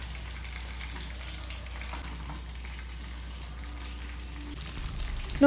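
Pizza sauce seasoned with salt and oregano cooks in a pan outdoors, giving a soft, steady bubbling sizzle at moderate distance with faint background murmur.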